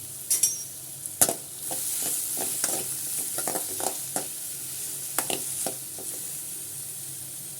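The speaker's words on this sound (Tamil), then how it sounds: "வெங்காயமும் பச்சை மிளகாயும் சேர்த்து நல்லா பொன்னரெல்லாம் வதக்கி எடுத்துக்கலாம்" Onion and green chilli frying in oil in a pan, a soft steady sizzle punctuated by sharp metal spoon scrapes and clinks as the mix is stirred, close and with no voices.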